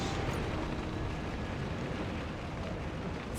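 Fire IV spell cast in Final Fantasy XIV, a dense, roaring burst of fiery noise sustained evenly for a few seconds, loud and close with no talk over it.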